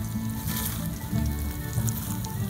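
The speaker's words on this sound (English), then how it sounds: "I gotta turn my bacon." Bacon sizzling over an outdoor campfire, a steady crackling fry with popping spatters and a low rumble of fire beneath, fairly close and continuous.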